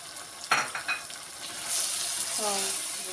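Spices being stirred into a rice filling for oven-baked stuffed peppers, a spoon scraping and clinking in a couple of close strokes over a soft steady hiss, with no talking.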